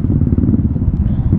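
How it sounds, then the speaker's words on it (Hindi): A motorcycle rolls along a red carpet at a beauty contest event in Arunachal, with a steady, close engine rumble and low clatter that runs without a break through the short stretch. "रेड कारपेट पे बाइक चलाने का मौका"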